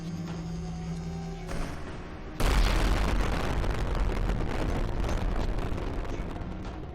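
Loud video game explosions: a sudden heavy blast about two seconds in, followed by a sustained roaring rumble of continuous detonations over a lower hum.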